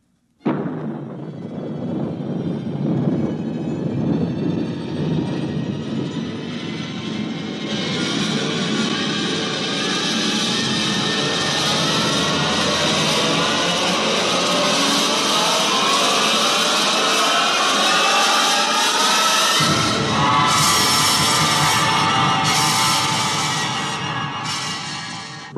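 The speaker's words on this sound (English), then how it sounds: "countdown for blast-off" A rocket blast-off effect from an old radio science-fiction drama, a rising roar building from a low rumble into a loud sustained hiss and whoosh that swells for about twenty-five seconds, with no talk over it.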